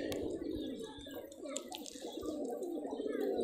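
A Rajshahi local Geribaj pigeon coos in low, throaty, repeated rolling phrases close by, with soft fluttering and background murmurs throughout.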